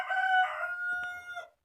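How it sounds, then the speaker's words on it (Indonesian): A rooster crows close by near a chicken coop, one long drawn-out call with a rising, wavering tone that trails off, followed by brief faint clucking. "gue tidur di kandang ayam jadi banyak suara ayam"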